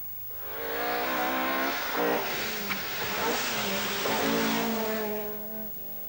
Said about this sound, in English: the hard-driven Porsche is remorselessly catching up, Toivonen bringing the rally to life with an